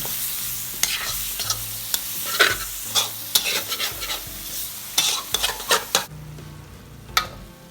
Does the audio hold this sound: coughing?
no